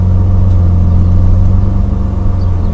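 A car engine hums steadily up close with a low, continuous rumble while driving slowly to park beside a BMW on a street in Samut Prakan, Thailand.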